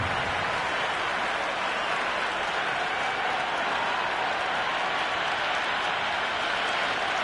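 Steady wash of crowd applause and cheering in a cricket stadium in the video game Cricket 26, a Sri Lanka versus Pakistan match, continuous and dense throughout without breaks.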